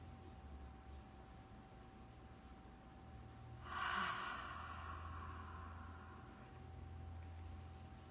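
A single deep inhale during a guided group breathing session, a soft airy rush rising around the midpoint and lasting about a second before fading into a quiet, steady room hum.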